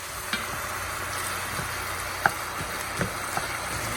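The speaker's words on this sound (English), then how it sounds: "now that all of our meat is in there and our onions and our garlic, we're going to take and give it a good stir right quick" Meat, onions and garlic frying in a pan while being stirred, giving a steady loud sizzle with occasional scraping clacks of the utensil against the pan.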